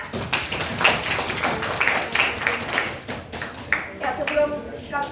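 In a classroom before a student presentation on cellular respiration, a small group gives scattered, uneven claps that thin out toward the end, with people talking over them.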